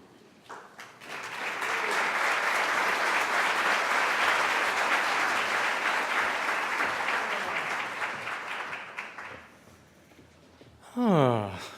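An audience at a 2018 physician assistant studies white coat ceremony bursts into long, steady applause that rises quickly, holds dense and even for several seconds, then fades before a voice speaks briefly at the end.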